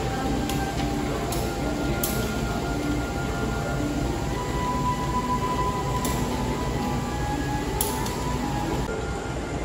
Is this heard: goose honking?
no